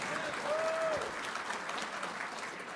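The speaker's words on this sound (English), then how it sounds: "Everybody give Sam Karnick a round of applause." A conference audience in a ballroom applauds steadily as a dense wash of clapping at moderate distance, with a brief faint whistle-like tone near the start.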